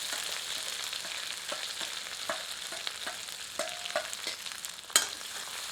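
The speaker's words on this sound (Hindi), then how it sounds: "1 टीस्पून जीरा और 1 टीस्पून के लगभग साबुत धनिया डालकर कुछ क्षण भून लेते हैं" Cumin and whole coriander seeds sizzling and crackling in hot oil with a crushed ginger, garlic and red chili mix, a steady frying hiss with small pops and the occasional stirring scrape, no talking.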